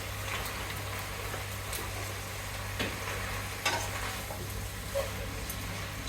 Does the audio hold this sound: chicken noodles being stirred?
yes